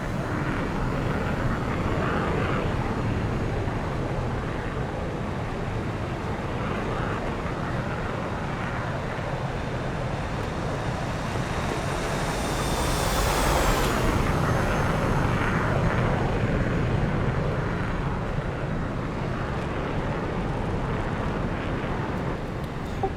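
F/A-18 Hornet jet in DCS doing a touch and go, a steady engine roar throughout that swells briefly with a rising whine midway, heard alone.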